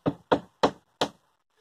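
A hammer knocks a garden post across slightly on a UK family plot, four sharp, evenly spaced blows ringing out close and alone, then silence.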